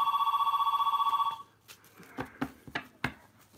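Telephone ringing with a rapid warbling electronic bell that pulses steadily for about a second and a half and then stops abruptly, followed by a few soft knocks and handling sounds.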